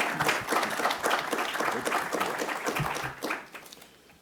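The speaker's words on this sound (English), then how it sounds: "We get a round of applause for our panelists." A round of applause for panelists at a U.S. national security and defense discussion event, steady clapping from a seated audience that thins and fades toward the end.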